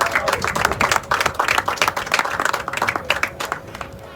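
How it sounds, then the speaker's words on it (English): A round of applause from an outdoor audience at a Miami-Dade park football field ribbon cutting, a steady spread of many hands clapping at middle distance with no talk over it. "Can we give one more round of applause for Commissioner Keon Hartman?"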